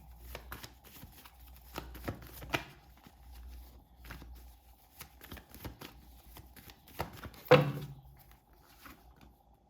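A tarot deck is shuffled close by in a series of soft, papery riffles and flicks, ending with a sharper slap as the cards are set down. A faint steady hum sits underneath.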